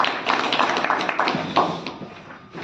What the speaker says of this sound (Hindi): जोरदार तालियों से स्वागत करें आदरणीय आशीष घोष जी